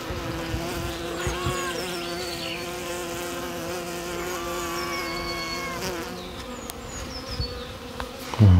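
Bees buzz close by in a rural farmyard, a dense, steady drone with wavering pitches as individual insects pass, ending in a brief low bump.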